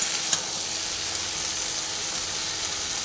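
Okra and potatoes stir-frying with Kashmiri chili powder, an even, close sizzle and hiss throughout, with a couple of light stirring taps.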